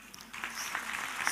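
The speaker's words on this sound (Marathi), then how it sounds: "सर खूप टाळ्यांचा कडकडाट या ठिकाणी चाललेला आहे" Audience applause at a public felicitation event, a brief soft wash of clapping that swells slightly and stays at a distance.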